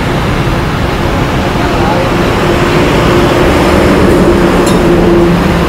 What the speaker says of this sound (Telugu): నా ఎదురుగా ట్రైన్ వెళ్తుంది చూడండి